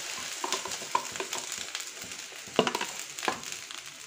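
Salt-and-pepper beaten egg frying in a pan for Indian street-style chicken fried rice gives a soft, steady sizzle with scattered crackles and scraping stirs, close and fairly quiet.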